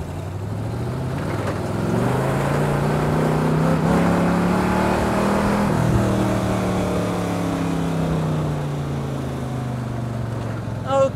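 A 1959 Ol' Yaller Mark III special revs its engine hard and close, the throaty roar swelling and falling in sustained pulls across the whole stretch with no talk over it.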